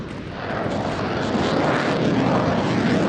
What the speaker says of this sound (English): maybe apart from the fighter jet noises you hear when you make contact with the outside world.